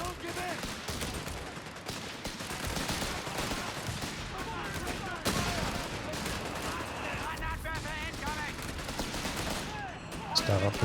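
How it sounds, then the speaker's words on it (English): Mortar barrage and gunfire in the Company of Heroes 3 strategy game form a dense, continuous battle din of overlapping blasts and rattling shots, with a voice talking over the chaos. "It's getting blasted by this mortar, wow."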